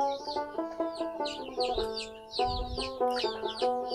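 Desi chickens on a farm cluck and chatter almost without pause, several birds close by, their overlapping calls forming a busy, rhythmic flock sound with a few low bumps.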